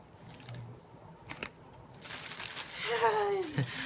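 A plastic bag holding Sesame Street fridge magnets crinkles and rustles close up in short bursts, growing louder toward the end, with a voice briefly speaking.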